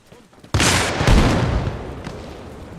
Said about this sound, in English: stop shooting the RPG at nothing